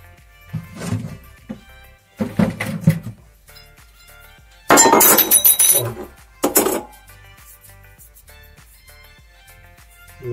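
A wine glass breaks with a bright crash and scattered clinking of glass shards, loud and brief, after some quieter handling sounds of glassware, with no talk.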